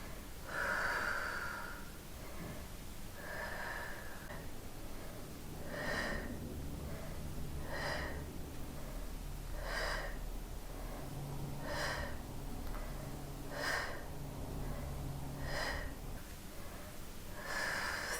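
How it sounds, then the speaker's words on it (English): Heavy rhythmic breathing during a quick core workout for abs and back, with steady repeated exhales and snorts through the nose close to the mic, continuous over low background music. "Keep breathing, do not hold your breath."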